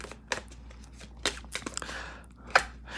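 Tarot cards being shuffled: short crisp riffling and slapping bursts, three or so sharp card snaps in quick succession, close and with no talking.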